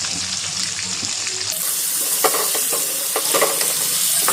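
Chopped carrots sizzle in hot ghee with bay leaves, garam masala and chopped ginger, a loud steady fry that swells partway through as a spoon stirs and scrapes the pan.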